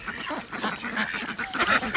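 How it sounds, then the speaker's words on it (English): Several ducks quack and chatter close by in a busy overlapping cluster, a farm flock moving across a thin layer of ice on a cold morning. "his quack is different"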